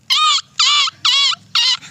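A man in a Kolhapur-area village imitates a dog's bark: four loud, evenly spaced yelping barks, each lasting about a third of a second, with short pauses between them.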